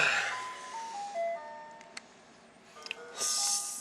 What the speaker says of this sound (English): So yes, the ice cream truck